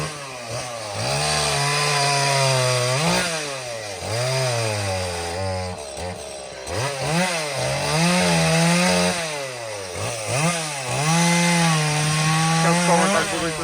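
A Stihl chainsaw revs up and down in repeated surges, its motor pitch rising and falling as it cuts wood, loud and close throughout.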